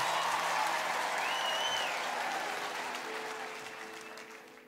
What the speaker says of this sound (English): Give yourselves a big round of applause, folks.